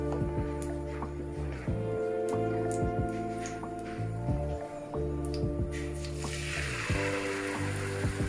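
Oil sizzles in a hot pan before uttapam batter is added. A steady close frying hiss runs throughout over a low droning hum, with a few soft clicks.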